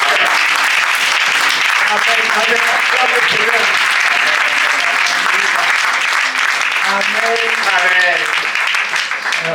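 A church congregation claps and cheers in praise during a Sunday worship service, a dense, sustained wash of applause at steady loudness, with voices mixed in throughout.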